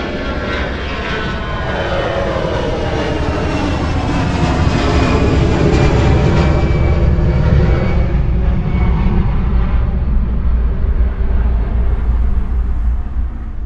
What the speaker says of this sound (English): reproducing the exact position of an airplane as it passes by, from taking off to flying directly overhead and finally disappearing above and behind